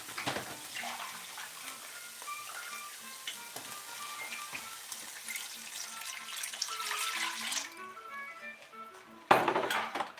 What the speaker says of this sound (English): now let's add a little bit of water into that